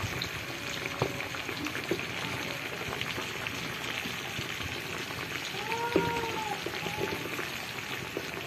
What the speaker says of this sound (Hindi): इसी तरह जी सारी जो मछली है हमारी उसको फ्राई कर लेंगे इसमें